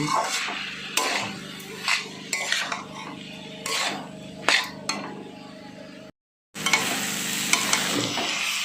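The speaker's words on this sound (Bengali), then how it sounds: "সব ছানাটা দেওয়া হয়ে গেছে এবার আমি ভালো করে নেড়ে নিচ্ছি" Chhana (cottage cheese) being stirred as it fries in a pan: a steady sizzle under repeated scraping and clinks of a utensil against the pan, with a short silent gap before the frying resumes loudly.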